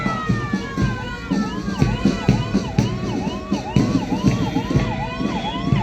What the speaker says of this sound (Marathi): महानगरामध्ये आग लागल्यास तातडीनं मदत करणारं अमरावती महानगरपालिकेचं अग्निशामक पथक नेतृत्व प्रमुख सय्यद अनवर